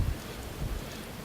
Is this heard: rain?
yes